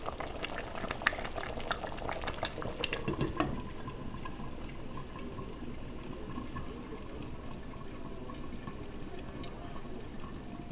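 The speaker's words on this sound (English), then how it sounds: "It's simmering a little too high right now, and let it continue to cook." A pot of Prakas dumplings simmering in water on a stove, giving a steady close bubbling hiss that runs throughout, with a few clinks and stirring sounds in the first few seconds.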